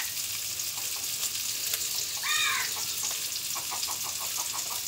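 Chopped onions and chilies fry in oil in a pan, giving a steady, close hiss with soft bubbling crackles and a brief faint chirp in the background.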